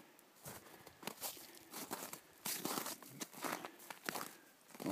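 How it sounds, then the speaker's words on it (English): Dry crunching and rustling of hay, with scattered crinkles and tearing sounds as loose material is handled and shifted about, fairly close. "Take a bale of hay, throw it right in there, and take the strings off."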